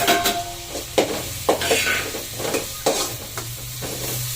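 Onions and dry ginger fry in wood-pressed sesame oil for a chicken fry, a close sizzle punctuated by quick, regular spatula strokes against the pan, about two per second, with no speech.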